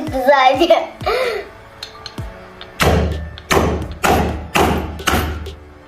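A child strikes a piggy bank repeatedly to break it open, giving five loud, evenly spaced heavy thuds, with a voice and other talk and laughter before the blows.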